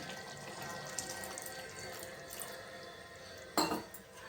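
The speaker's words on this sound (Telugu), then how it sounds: "నేను కొంచెం వాటర్ వేసుకుంటున్నా." A kitchen tap runs steadily with a soft watery hiss as water is added to a fish curry, then a brief louder splash near the end.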